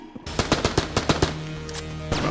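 Rapid bursts of gunfire from a gun in the video game Enter the Gungeon, about a dozen sharp evenly spaced shots in a quick run, loud and close, then a brief sustained tone at the end.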